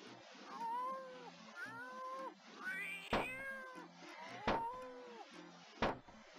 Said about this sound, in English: Hush up, kitty!